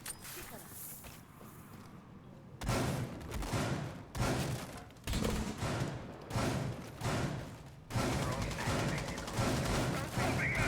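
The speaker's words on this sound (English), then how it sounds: "Here's some shots there from Joshua in the East Tower." Gunfire from a competitive PS4 esports shooter match in an ESL Major League semi-final, with repeated shot bursts under steady excited commentary from casters.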